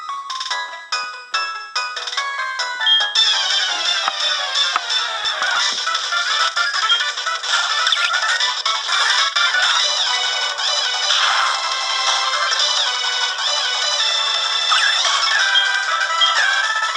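Upbeat chiptune-style trainer battle remix music from Pokémon HeartGold plays loudly, opening with quick staccato notes before settling into a busy, continuous electronic melody.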